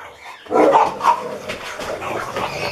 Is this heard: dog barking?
yes